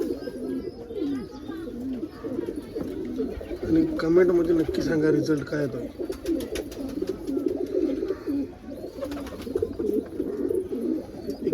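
Pigeons coo in soft, repeated throaty rolls close by, continuing steadily beneath someone talking throughout.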